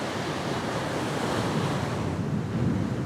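Strong wind buffets the microphone over steady, loud surf breaking at Curl Curl Beach, a continuous dense roar with no pauses and no voices.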